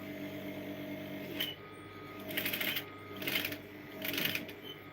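Domestic sewing machine stitching a buttonhole in fabric, three short bursts of rapid mechanical clatter separated by pauses over a quiet background hum.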